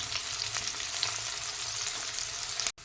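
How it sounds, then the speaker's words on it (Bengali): Chopped medium onion frying in hot oil, a steady close sizzle and crackle running continuously, then a sharp brief cut near the end. "এইবার পেঁয়াজটাকে আমি হালকা গোল্ডেন ব্রাউন করে ভেজে নেব।"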